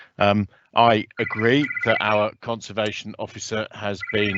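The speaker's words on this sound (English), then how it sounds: "excuse my phone ringing in the background" A telephone rings in the background with repeated electronic tones during a council planning committee meeting, partly buried under someone speaking steadily in the foreground.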